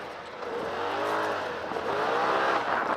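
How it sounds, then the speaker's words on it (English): A Polaris RZR XP Turbo side-by-side accelerates off-road, its engine droning loud and close with rising and falling pitch over a steady rumble. "Give it more gas, give it more gas, give it more gas."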